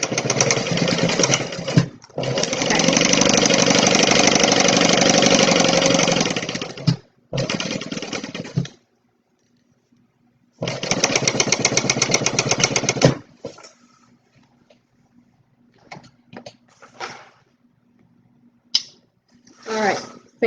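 A sewing machine stitches a tote bag seam in long, loud, steady whirring runs, stopping and starting several times, followed by quieter handling sounds.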